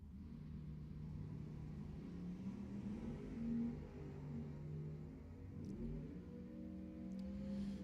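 A Chevrolet Nova and a Pontiac GTO drag racing at Lebanon Valley Dragway, distant engines droning and rising in pitch as they accelerate down the strip, faint against outdoor background noise.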